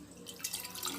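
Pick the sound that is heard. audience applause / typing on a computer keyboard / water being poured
water being poured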